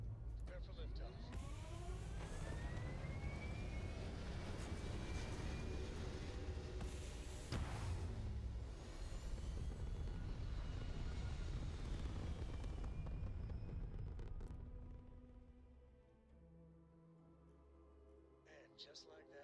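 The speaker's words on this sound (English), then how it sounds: "Prepare for liftoff." A rocket lifts off in a space video game with a building roar and crackling thrust, rising whistles and a rumbling surge that fade into quieter tones at the end.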